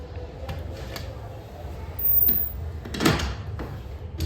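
A 2001 KONE hydraulic elevator's faulty door operator moves the door inside an IKEA in Schaumburg, Illinois, with muffled rumbling and a sharper clunk midway, heard close over steady low machine hum.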